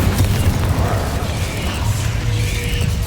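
An Incendio fire spell blast in Hogwarts Legacy, a dense roaring burst with rumbling booms and crackling noise sustained throughout, loud and close amid other game combat sounds.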